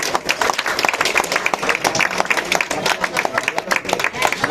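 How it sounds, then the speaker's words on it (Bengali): An audience at a school function claps in sustained, dense applause, loud and close, with a voice speaking over the clapping. "সকলে হাততালি।"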